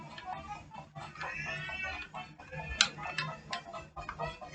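A chicken clucks in the video game Don't Press the Button 4, with short, quick clucks scattered through busy game noise.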